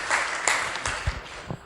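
A brief round of applause from a church congregation at a Sunday gathering, soft scattered clapping spread through a roomy space, fairly distant and modest in volume.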